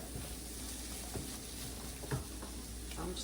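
Peppers and onions sautéing in a pan for smoked sausage jambalaya, a steady low sizzle with a few soft stirring scrapes, close and even throughout.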